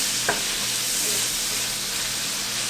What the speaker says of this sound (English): just mix this around and cook this shrimp up until it is nice and pink and cooked through